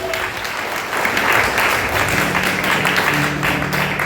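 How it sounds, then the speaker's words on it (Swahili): A crowd at a youth gift-exchange evening of a church deanery applauds its leaders with dense, steady clapping that holds evenly throughout and swells slightly partway. "Basi makofi mengi kwa viongozi wetu."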